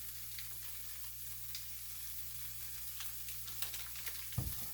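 Butter sizzling in a hot pan makes a faint, steady frying hiss with a low hum underneath and a brief clunk near the end.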